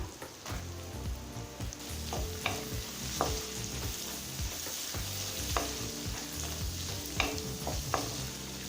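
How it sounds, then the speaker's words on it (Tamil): Brinjal and green chillies sautéing in a pan for brinjal rice, a steady sizzle with repeated scraping stirs of a spoon across the pan, no voices. "ஒரு நிமிஷம் வரைக்கும் நல்லா வதக்கிக்கலாங்க"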